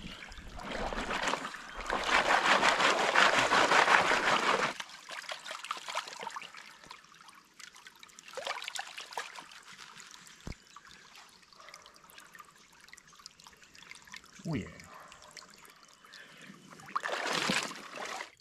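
Water sloshes and swirls in a gold pan at a creek, with bursts of splashing and gentle trickling between louder washes, close by and with no talk.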